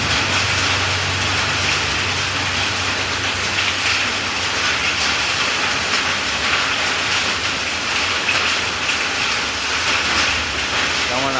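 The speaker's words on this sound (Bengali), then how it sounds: "টিনের উপরে পড়ছে শিলাবৃষ্টির আওয়াজ।" Hailstones falling on a tin roof during a spring storm in Illambazar, Birbhum, a dense, continuous loud pattering drumming roar that stays steady throughout, with no voice heard over it.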